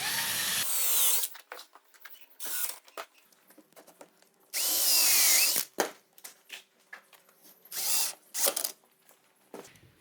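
A power drill drives screws into a wooden jig for assembling drawers and boxes in a woodworking shop, running in several loud whirring bursts of a second or two with quieter clicks and handling noises between them.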